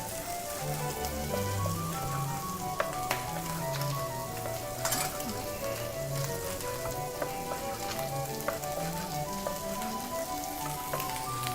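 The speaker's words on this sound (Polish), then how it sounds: "I również podsmażamy na patelni." Meat and bacon frying with plums in a pan, a steady crackling sizzle with scattered pops and occasional stirring, close and continuous with no voices.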